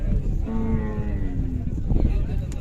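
A single long, low moo from Khillar cattle at a village fair cattle show, heard over noisy background chatter.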